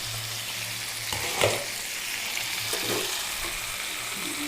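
Pumpkin pieces cook in oil in a pan, making a constant soft sizzle with a few stirring clinks and scrapes, no voice heard.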